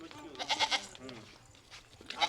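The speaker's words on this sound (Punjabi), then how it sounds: "ਇਹ ਉਹਦੀ ਵੱਡੀ ਬੱਕਰੀ ਦੀ ਹੈ ਬੱਚੀ" A young female Barbari goat kid bleats in a few short, nasal cries close by, a cluster of calls early on and another at the end, with quieter farmyard sound in between.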